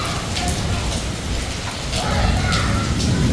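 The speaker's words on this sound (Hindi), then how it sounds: "wow, it's raining" Steady rain falls in a heavy continuous hiss with scattered drop patters on surfaces, loud and close throughout, with faint voices briefly underneath.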